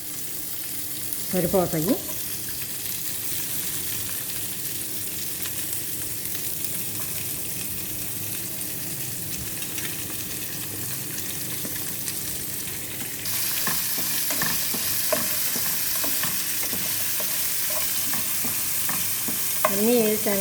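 Curry leaves and chopped onions frying and being stirred in a pan for atukulu upma, a steady sizzle with scraping stir strokes, growing louder partway through, with a brief spoken word near the end.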